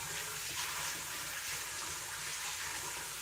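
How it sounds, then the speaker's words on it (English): Dry pinto beans swished around in a pot of rinse water, a continuous close sloshing and splashing with no talk. "And I swish them around to get any debris and dirt off them."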